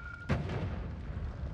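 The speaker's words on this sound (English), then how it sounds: "Yeah, I don't really like these explosions." A muffled explosion from the video game Noita sets off a single low boom, followed by a sustained rumbling, crackling wash of debris that fills the rest of the moment at steady loudness.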